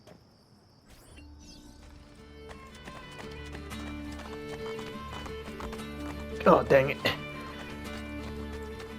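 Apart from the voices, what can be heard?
horse galloping and neighing in video game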